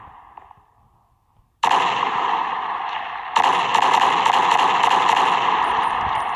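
A 3D weapons addon in Minecraft produces rapid automatic gunfire, a loud dense continuous burst that starts abruptly after a brief lull, pauses for a moment, then resumes harder and keeps going.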